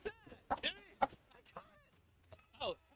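A chicken on an island clucks in short bursts, several separate calls with gaps between them, close by and fairly clear.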